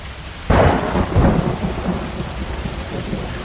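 A thunderstorm sound effect: a sharp thunder crack breaks in, then rumbles away under steady, heavy rain that continues to the end.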